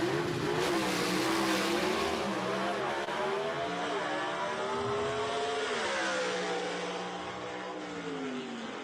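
Drag racing car at a dragway revs hard with rising and falling engine pitch, then launches into a sustained roaring pull that fades slightly toward the end, heard from a moderate distance with no voices.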